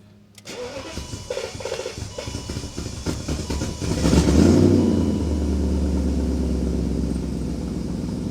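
A BMW engine running with its O2 sensors removed ahead of the catalytic converters: a starter crank catches, then a loud, steady idle swells into a rev around the midpoint and holds a rough, throaty drone.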